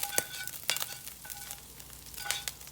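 Lean sausage sizzling and crackling in a skillet while being stirred, with a soft steady fry broken by several sharp scraping clatters; fairly quiet, with no voices.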